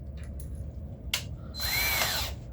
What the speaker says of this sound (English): I gotta put my drill in, or my drill bit in.